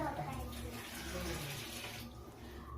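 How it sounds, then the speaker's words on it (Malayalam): Water poured from a glass into banana stem curry with tomato and chillies, a continuous gurgling pour close by, fairly quiet. "1 ഗ്ലാസ് വെള്ളം ഒഴിക്കാം"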